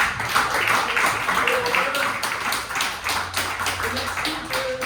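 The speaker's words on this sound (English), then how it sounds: "so let's get a clap going" An audience at an improv comedy show claps steadily, a dense, sustained patter of many hands that fills the room at an even loudness throughout.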